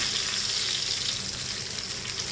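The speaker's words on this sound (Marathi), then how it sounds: "मच्छी फ्राय करून घ्यायची एक बाजू झाली की पलटी करून घ्यायची लसूण घालून" Fish coated in gram flour, rice flour and semolina fries with garlic in a pan, Malvani style, producing a loud, continuous crackling sizzle close up with no speech.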